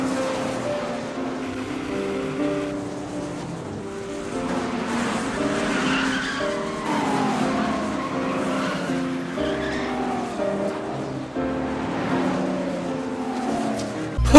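Cars race in a movie race scene from the 1995 film Thunderbolt, with engines whining and revving through shifting pitches and tires squealing, all blended into a continuous, fairly loud soundtrack mix.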